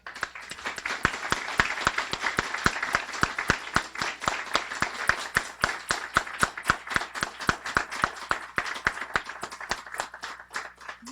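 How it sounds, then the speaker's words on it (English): An audience at a guide dog school graduation claps for volunteers in a sustained round of applause, many sharp, closely spaced claps with a few louder near claps on top. "I would like every person in this room who volunteers for Guiding Eyes in some aspect to please stand so"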